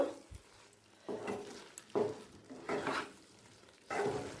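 Chicken bharta with fresh cream, kasuri methi and chopped coriander is stirred in a pan, making a series of soft scraping strokes roughly every second over a faint, low sizzle.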